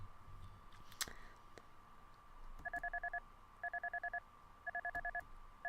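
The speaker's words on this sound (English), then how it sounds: "My phone alarm rang by my ear." A phone alarm rings close by in three bursts of rapid, trilling electronic beeps with short gaps between them, alone in a quiet room after a faint click.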